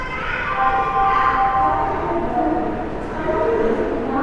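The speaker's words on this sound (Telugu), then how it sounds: "చెన్నై నుంచి కాంచీపురం రావడానికి లోకల్ ట్రైన్ అన్నమాట ఇది" A local train at Kanchipuram railway station on the Chennai line, its drawn-out horn tones sounding loud and steady over station rumble, swelling again near the end.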